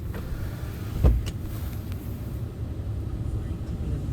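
Power windows of a 2016 Ram 1500 pickup hum steadily inside the cab, with a soft thump early on over a low engine rumble.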